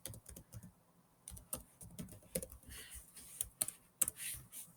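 Typing on a computer keyboard while entering a merchant account name in a payment gateway setup: quick irregular bursts of clicking keystrokes, close and fairly quiet, with no talk.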